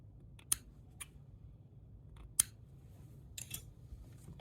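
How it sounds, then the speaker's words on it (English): Small scissors snip crochet thread, giving a few sharp, crisp cuts spaced about two seconds apart against a quiet background. "And cut the thread."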